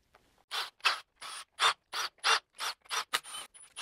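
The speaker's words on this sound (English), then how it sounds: "I'm gonna go ahead and actually loosen some of those pan bolts" Ratchet wrench loosening T30 transmission oil pan bolts on an Audi B8 RS5/RS4/S5/S4 DSG gearbox, a series of about ten short rasping clicking bursts in steady rhythm, close and fairly quiet.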